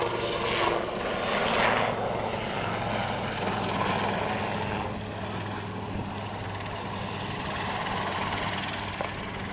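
Westland Lynx helicopter flying a display at Dunsfold Airshow, rotor and turbine roar rising loud early then settling into a steady, somewhat distant whine and thrum, with no voices.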